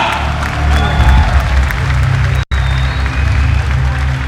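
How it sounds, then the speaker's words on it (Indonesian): Audience applause fills a boxing event hall, dense and loud with crowd noise and some voices mixed in, broken by a brief dropout near the middle. "Kita beri tepuk tangan dan semangat kembali lagi untuk Elias Pikal."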